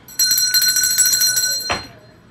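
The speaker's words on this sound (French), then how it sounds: "Cloche." An electric bell rings loudly and continuously for about a second and a half, a bright metallic clang close by, followed by a brief sharp knock as it stops.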